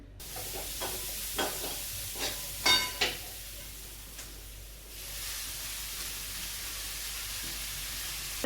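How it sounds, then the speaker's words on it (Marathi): Cumin and mustard seeds crackle in hot oil for a tadka in a home kitchen, a string of sharp pops and light stirring clatter over the first few seconds, then a soft steady sizzle, fairly quiet, with no talking. "जिरं मोहरीचा तडका वगैरे जे ते देणार"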